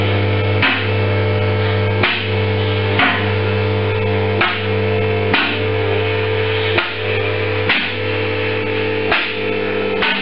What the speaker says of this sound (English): This hoist has automatic safety locks.